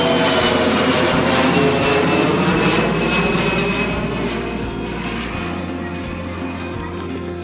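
An American Eagle jet plane on the runway during takeoff, a steady loud engine roar that fills the whole span and eases slightly toward the end, heard from a distance with no talking.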